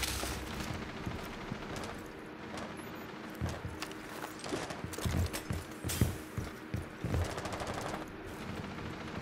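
Sustained automatic gunfire rattles through a video game firefight, rapid bursts and single cracks overlapping continuously at moderate distance, with no speech.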